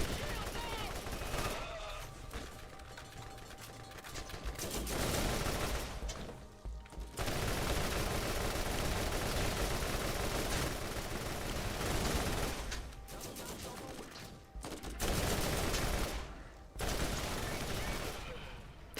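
Sustained gunfire from Borderlands weapons, loud dense bursts with brief pauses, mixed with game sounds and a speaking voice.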